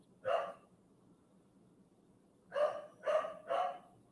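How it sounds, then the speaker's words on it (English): A dog barks once, then after a pause gives three more barks in a quick, evenly spaced run, heard from mid-distance in a quiet room. "There he's barking again."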